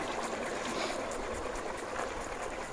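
Water sprays hard from a rotating flow turbine nozzle chamber, a continuous hissing, splashing rush with rapid flutter, close and fairly quiet, with no talk.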